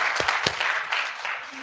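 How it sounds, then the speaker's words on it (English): A quiz event audience claps for a participant, a short wash of moderate applause with a few louder individual claps near the start, fading toward the end, with a voice briefly heard. "One more round of applause to Jitesh"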